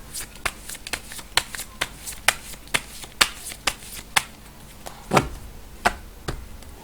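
Tarot cards shuffled by hand, a brisk series of crisp snapping riffles and taps repeating roughly every half second, close and clear with no talking.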